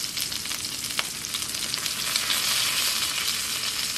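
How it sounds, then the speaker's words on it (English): Steady, bright sizzling of Brussels sprouts frying in a hot pan, a continuous hiss close up with a faint clink near the start. "Listen to that sizzling sizzle."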